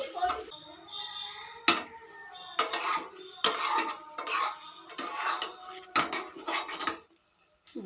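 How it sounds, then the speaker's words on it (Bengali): A spoon scrapes and knocks against a pan as jujube pickle with jaggery is stirred continuously over low flame, giving bursts of clattering strokes close by, with a voice speaking between them. "অনবরত নাড়তে থাকবো, নাহলে তলাটা লেগে যেতে পারে"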